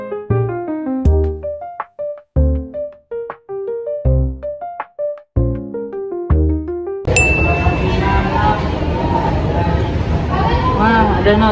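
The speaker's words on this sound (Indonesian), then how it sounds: "Wah, ada notif." A phone notification sounds as a bright single ding right at the change in sound, following a repeated plinking chime melody. Loud, crowded chatter fills the rest.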